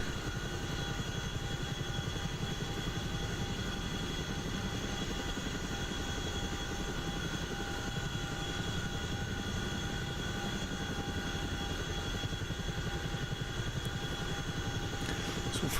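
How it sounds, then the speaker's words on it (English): A Black Hawk helicopter flying past in DCS, a steady droning rotor and engine hum held at an even, moderate level without voices. "There's a friendly helicopter flying by."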